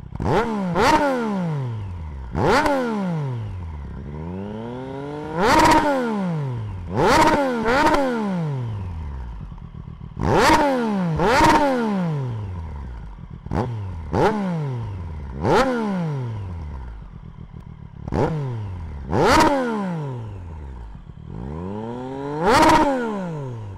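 A Triumph Street Triple motorcycle engine is revved repeatedly, a steady idle broken by about a dozen sharp throttle blips that rise and fall back, loud and close.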